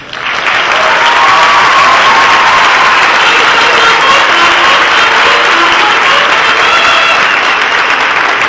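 Sustained loud applause from a large audience at the closing ceremony of a national marine science and technology congress, steady and dense from start to finish with faint cheering mixed in.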